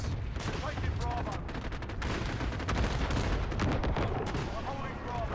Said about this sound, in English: Enemy cluster strike incoming, take cover.